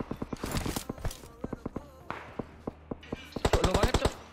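Gunfire from the PUBG Mobile battle royale game: rapid bursts of sharp, evenly spaced shots, with a denser volley near the end, heard under brief talk from players.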